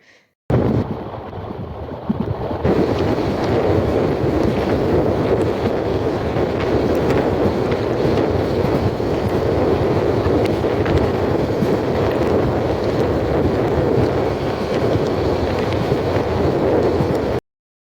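Inside a coach of the Sonar Bangla Express from Dhaka to Chittagong, a steady loud rumble of the moving train mixes with rushing wind buffeting the microphone and continues without break.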